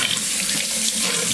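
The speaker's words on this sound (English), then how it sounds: "That's hot water, Boo." Hot water runs steadily from a tap to fill a capuchin monkey's bath, a continuous, even hiss of flowing water heard up close without any voices.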